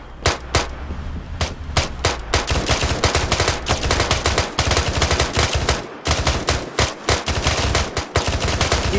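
Sustained automatic gunfire in combat, loud rapid bursts of shots fired at close range for several seconds with brief pauses, dense and continuous.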